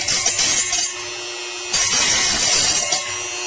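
A burr filed or ground off a metal edge while modding a Weber kettle grill, giving two short, loud rasping scrapes close up with a brief pause between them.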